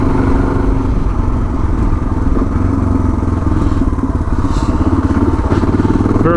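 Suzuki DR 650 single-cylinder motorcycle being ridden, a loud close thumping engine beat with rough pulsing exhaust and some clatter, varying slightly with throttle throughout.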